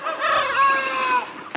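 A young rooster on a homestead crows once at about five in the morning, a single close, loud, wavering call that trails off, with no other sound around it.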